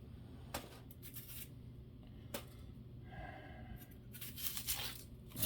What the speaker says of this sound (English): I don't know why this particular onion is not peeling.